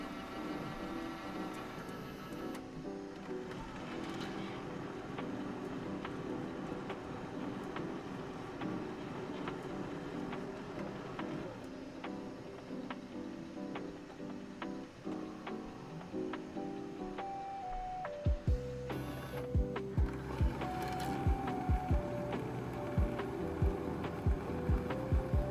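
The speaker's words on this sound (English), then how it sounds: "Let's go ahead and start our other print" A Bambu Lab P1S 3D printer, its nozzle and hotend just changed, starts a print with a steady mechanical whirring and ratcheting hum, then shifts to louder clicking motor movements near the end.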